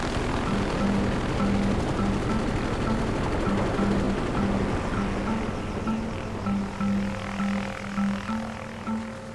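A helicopter in flight gives a loud, steady engine-and-rotor drone with a pulsing low tone running through it, continuous and close, with no voices.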